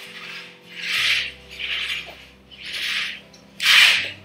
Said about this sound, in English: That noise you're hearing is Caleb running his cars along the window ledge.